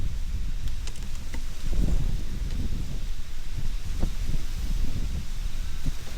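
Gusty wind buffets the microphone with low rumbling bursts and rustling, continuous throughout with no voices, while fishing on the coast along the Great Ocean Road.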